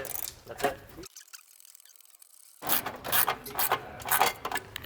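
A car heat shield being fitted under the vehicle gives off bursts of metallic clicking and ratchet-like rattling, then a quiet pause of about a second and a half before the busy clattering picks up again.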